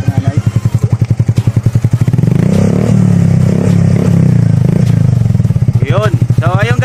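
Yamaha Fazzio 125 scooter fitted with a Yoshimura R77 carbon exhaust, no silencer, loud and close: a choppy idle, then a sustained rev and a drop back to a pulsing idle.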